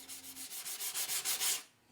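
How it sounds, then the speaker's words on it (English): Quick back-and-forth scratching strokes of sandpaper on wood, about a dozen in a steady rhythm, close and clear, then stopping. "use a sanding block or even a block of wood with just sandpaper wrapped around it"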